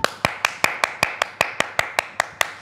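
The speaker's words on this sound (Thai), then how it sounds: "ปรบมือให้ตัวเองสิคะปรบมือให้ตัวเอง" Hands clap in a steady, even rhythm, about a dozen sharp, close claps in under three seconds with nothing else heard.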